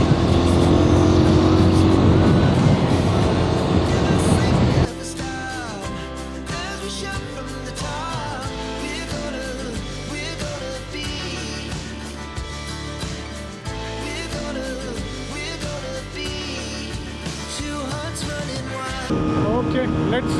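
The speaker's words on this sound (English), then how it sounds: "we have Naga riding the Xpulse now" A Hero Xpulse 200 motorcycle is ridden on a road trip from Chikmagalur toward Amruthesvara Temple, its engine droning steadily with shifting pitch under strong wind noise, recorded close from the rider's position.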